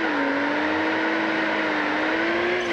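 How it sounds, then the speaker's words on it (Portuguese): Nissan Skyline R34 engine in BeamNG.Drive held at a steady high rev, a continuous droning whine with a slight pitch rise and fall, loud and alone without popping or crackle. "O barulho do motor continua igual."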